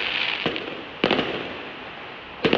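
Chinese New Year firecrackers and fireworks go off in three sharp, loud bangs spread across a few seconds, each ringing briefly over a steady background hiss.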